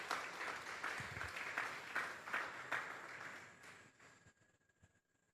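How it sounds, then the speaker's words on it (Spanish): Church congregation at a Sunday service giving a round of applause, crowd clapping fairly faint and distant, steady at first, then thinning and dying away toward silence. "Denle un fuerte aplauso"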